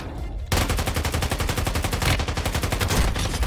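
Rapid automatic fire from the starting gun in Warzone Mobile, loud and close, a fast even stream of shots that begins abruptly after a brief quiet moment and runs to the end.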